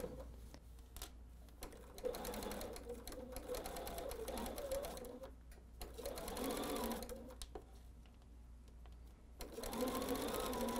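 Sewing machine stitching two fabric halves of a Tree Farm table runner right sides together, running in steady bursts with short pauses between them, close and clear.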